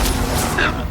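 A Confringo explosive spell blast in the Hogwarts Legacy video game bursts loudly and close, a dense rumbling crackle that fills the whole second while a voice calls out over it.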